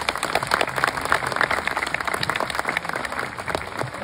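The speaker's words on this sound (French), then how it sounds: "Et je pense qu'on peut l'applaudir très fort" Zoo audience at a sea lion feeding show clapping hard, a crackling spread of many hands, uneven and fairly close, with no voices over it.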